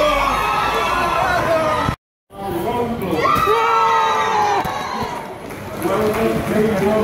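Crowd at a charity pancake day race cheers and shouts loudly, with children's whoops and excited voices throughout, broken by one brief moment of silence before the cheering resumes.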